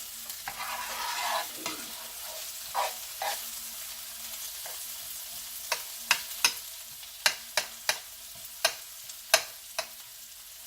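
Garlic cooking in a pan, a soft sizzle fading early on, then a run of sharp, regular clicks and taps from a utensil against the pan, close and clear with no talking.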